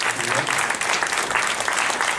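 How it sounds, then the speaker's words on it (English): A room of attendees at a recruiters panel gives dense, sustained applause, close and fairly loud, with no letup for the full length. "Let's give them a warm applause."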